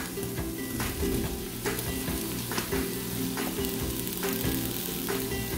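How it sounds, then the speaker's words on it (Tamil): Soya chunks frying in an Instant Pot for biryani, loud continuous sizzling broken by regular scraping strokes of a spoon, close up with no talk. "இதில் வந்து இப்போ சோயா சங்க்ஸ் வந்து ஆட் பண்ணிடுறேன்"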